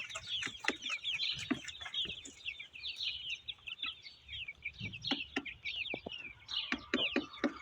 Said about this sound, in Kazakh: Так, мына жақта бізде балапандар осылай жайылып жүр.